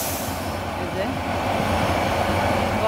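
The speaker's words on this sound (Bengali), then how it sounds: "এই যে ট্রেনটা আসতেছে দেখেন" An intercity train arrives in a rail setting near Kasba town, its steady rumble building gradually and growing louder toward the end, with a faint metallic squeal rising above the low roar.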